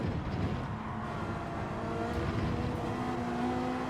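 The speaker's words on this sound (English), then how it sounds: "Oh, like 2 or 3 bites of the throttle there to try and plant it on the way out of the corner." A Gran Turismo 7 race car's engine drones steadily on the way out of a corner, with slight surges in throttle over a constant mid-level roar and no talking.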